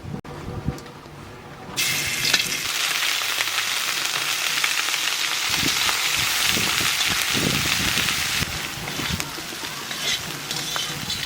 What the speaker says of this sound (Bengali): মশলাটা একটু ভাজিয়ে দিচ্ছি